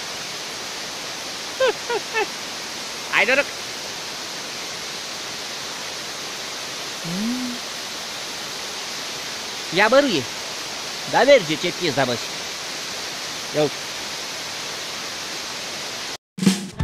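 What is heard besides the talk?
waterfall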